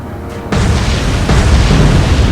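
A naval gun fires in the Atlantic Fleet naval warfare game, a single loud, heavy boom that cuts in abruptly and leaves a sustained rumbling roar, with a second swell of blast noise following close behind.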